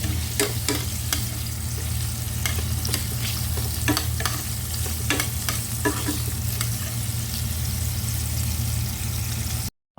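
Chicken feet adobo with sautéed onions stirred in a sizzling pan, a steady loud frying hiss with repeated spatula scrapes and clicks, a low engine-like hum beneath, and no speech.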